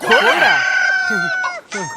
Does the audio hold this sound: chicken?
yes